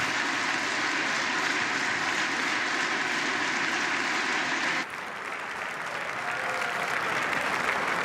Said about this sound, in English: Now they're going to clap for another 10 minutes.